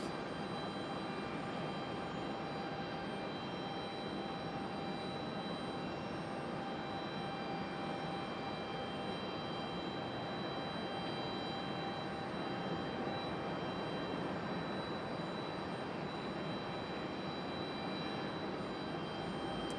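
Distant, steady broadband roar of a Breeze Airways jet at Raleigh-Durham airport at night, faint and continuous for the whole stretch with no one talking.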